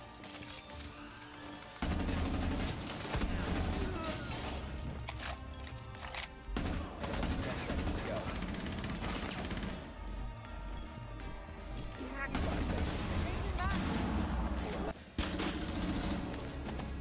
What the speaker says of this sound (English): And that's a fuse gun.